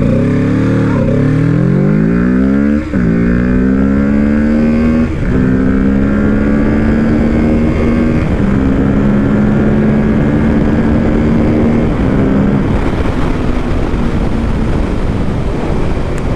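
A 2024 Kawasaki Ninja 650 motorcycle engine drones loudly and steadily while riding, its pitch climbing through several gear changes with brief dips between shifts, then holding a sustained cruising tone under constant wind roar.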